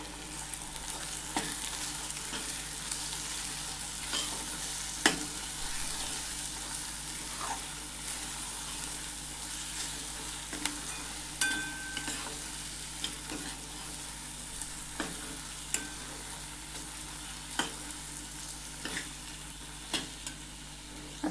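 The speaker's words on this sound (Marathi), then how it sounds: "आता आपल्याला हे छान तेल सुटेपर्यंत परतून घ्यायचं आहे" Spices and masala powders sauté in oil for a drumstick curry, giving a constant low sizzle broken by regular spoon scrapes and taps against the pan, close and unhurried, with no voices.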